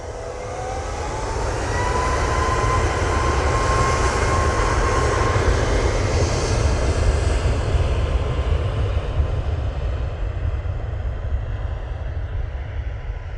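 An aircraft departing at Manchester Airport, a loud, sustained jet roar with a rising whine early on and a deep rumble, gradually thinning toward the end, no voices present.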